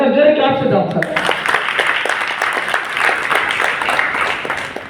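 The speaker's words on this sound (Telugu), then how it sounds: "ఒకసారి జోరు క్లాప్స్ ఇద్దాం సార్" A crowd breaks into loud, sustained applause at a speaking event honouring a mentor, dense clapping filling the room for several seconds after a brief spoken lead-in.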